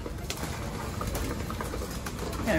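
Pet pigeons coo softly during a morning feeding, with faint low murmuring coos and light rustling amid quiet outdoor background noise at moderate distance.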